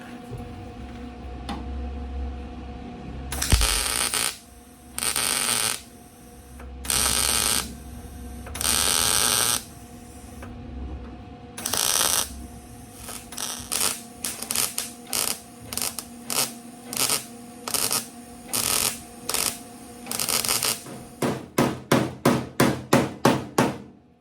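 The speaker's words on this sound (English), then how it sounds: "I'm going to hit these tack welds" Welder tack welding on the body of a 1972 VW Super Beetle during rust repair, a series of sharp crackling buzzes in short bursts. The bursts start long and spaced, then turn into a rapid run of short pulses, close and loud.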